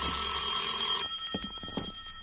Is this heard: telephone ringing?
yes